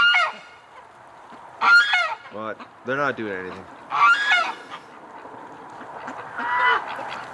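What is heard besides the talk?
ducks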